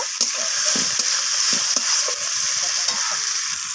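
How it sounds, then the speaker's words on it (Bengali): Onion and tomato fry in hot oil in a pan for an amudi fish curry, giving a steady close sizzle broken by soft scraping stirs, with no talk. "আমি পেঁয়াজ আর টমেটোটাকে একদম বাদামি রং ধরা পর্যন্ত ভেজে নেব"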